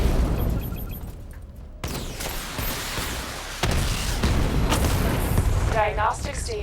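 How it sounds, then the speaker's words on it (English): Missile barrage explosions from Batman: Arkham Knight set off in bursts, with heavy booms and rumbling blasts stacking into a loud, continuous barrage and a brief electronic warble near the end. "Charge up missile barrage to level 2 and destroy 4 active targets to complete diagnostic test."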